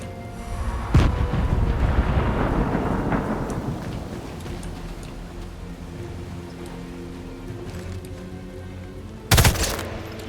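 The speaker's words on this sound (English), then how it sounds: "This is actually a nice machine gun, this one. I know it's loud and you can hear it" Heavy machine gun fire in Sniper Elite 5, a loud rumbling burst near the start that fades into a long decaying roar, followed by another sharp, heavy blast near the end.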